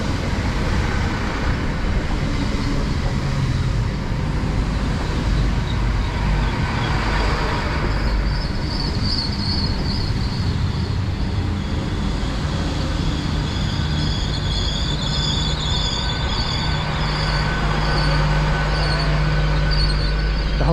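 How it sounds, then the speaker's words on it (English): Class 800 train 800 304 rolls into a South Wales station platform with a steady rumble and rail noise. Faint high squeals rise near the end as it slows, and no one speaks. "arriving now is the 11:59 service, 800 304 to Swansea"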